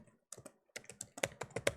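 Quick bursts of keystrokes on a computer keyboard, close and clicky, arriving in short irregular clusters with brief pauses between them.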